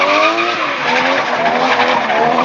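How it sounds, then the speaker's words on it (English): A 480 bhp 1JZ-engined Toyota Soarer drifting at a competition, its tires skidding and squealing loudly and continuously under a sustained, wavering engine roar. "Darren driving his 1JZ Toyota Soarer. 480 brake horsepower."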